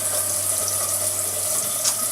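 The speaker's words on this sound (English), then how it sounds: "that direction is pushing the water out" Water is pumped out of an aquarium tank through a JBL Aqua In-Out valve, a steady rushing hiss with a low hum underneath, continuous and close, without talk.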